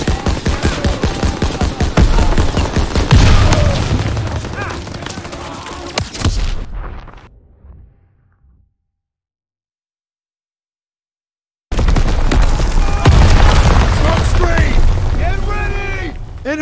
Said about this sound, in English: Toss it out, a grenade!